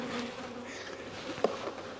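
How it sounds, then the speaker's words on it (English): Honey bees buzz around a hive as a nuc is moved into a ten-frame box. A dense, steady drone of many insects sits close by, with no talk. "Bring the hive over here in its position where they're all looking to try to get back in."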